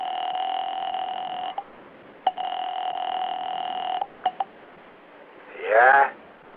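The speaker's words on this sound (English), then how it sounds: "10 cents for a phone call to Smokey Sullivan." Old-style telephone line tones for placing a ten-cent call: two long steady tone bursts separated by short clicks, followed by a brief rising warble, heard close and clear.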